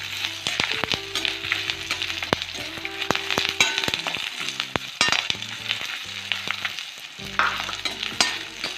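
Dried red chillies, coriander seeds and curry leaves being dry roasted in a pan, with scraping stirs and sharp clicks of a spatula over a light sizzle, close up and busy.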